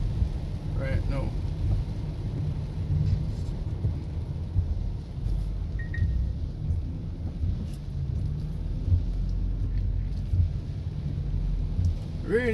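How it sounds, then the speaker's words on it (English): Steady rain and traffic hiss on a flooded highway near Bull Bay, St Thomas, Jamaica, with low continuous rumble throughout and no distinct thunderclaps standing out. "Rainy day on the highway,"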